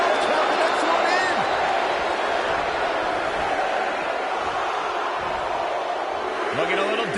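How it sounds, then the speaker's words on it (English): Wrestling arena crowd at a WWE women's Royal Rumble, a loud, dense roar of many voices with faint rhythmic shouting, steady throughout and partly under commentary talk. "Listen to this crowd count the next one in."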